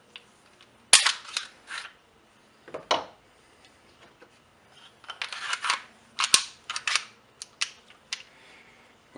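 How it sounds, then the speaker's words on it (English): Sharp metallic clicks and snaps from reassembling the slide of a Springfield Armory XD 9mm pistol, a close, irregular series of crisp clacks and slides with quiet gaps between them. "once you get the slide back on, flip that down, and now it's ready to go"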